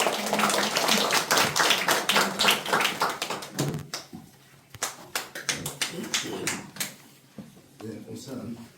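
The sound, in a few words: audience applause at an award ceremony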